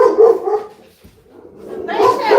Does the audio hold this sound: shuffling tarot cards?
no